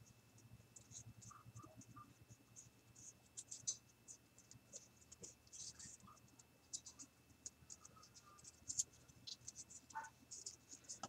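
Soft, close scratchy rustling of paper being rolled up, continuous small crinkles and scrapes with occasional sharper crackles, quiet and steady.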